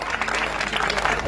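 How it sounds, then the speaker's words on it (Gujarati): Villagers honouring school staff at a felicitation ceremony applaud heartily, with a thick, continuous burst of clapping from a gathered crowd and faint voices mixed into the noise. "ખૂબ તાળીઓથી વધાવીશું આપણે."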